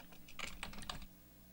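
Keys clatter on a computer keyboard in a quick, soft burst of about half a dozen presses, close and quiet over a low background hum.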